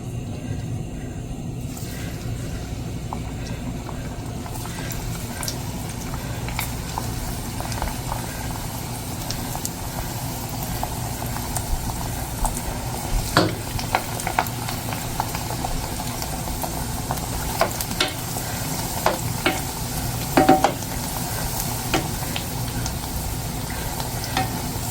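Spicy pitha cakes made with mixed spices frying in hot oil, a continuous loud bubbling sizzle with occasional scrapes and clatters as they are turned, no voices.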